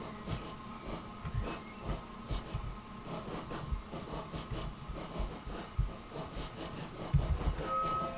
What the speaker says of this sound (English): Oh shit, there's a train.